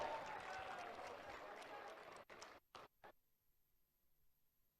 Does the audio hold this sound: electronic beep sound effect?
no